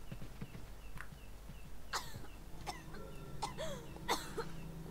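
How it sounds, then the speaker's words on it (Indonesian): Coughing from a character in the video game Resident Evil 4, a few short rough bursts over steady game background noise, with no talk. "Batuk darah ya."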